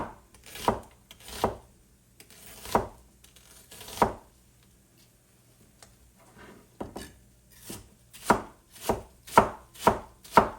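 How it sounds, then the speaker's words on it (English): A knife dices an onion on a cutting board in sharp, uneven strokes, a few spaced out, then a quicker run of cuts near the end, with potatoes sizzling nearby. "Just gonna dice this onion up similar."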